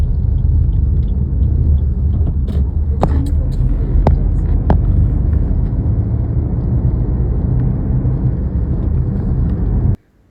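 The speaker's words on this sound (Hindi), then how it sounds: "वैसे आंधी तो तेज है, ये देखो सारा पलट गया।" Strong dust storm wind blowing outdoors, a loud, steady roaring rumble that fills the whole stretch, with a few sharp knocks and rattles of objects mid-way before it cuts off abruptly.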